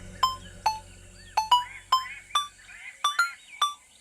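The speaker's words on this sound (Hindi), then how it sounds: "मम्मी का फोन है" Phone ringing with a repeating electronic ringtone, short bright tone bursts in an uneven rhythm, over a low hum that fades partway through.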